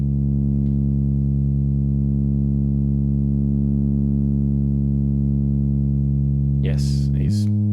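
Modular synth bass voice from a Disting module in oscillator mode feeding an SEM filter, a single steady low droning tone held evenly and loud, then a brief noisy burst and a drop in pitch at the very end.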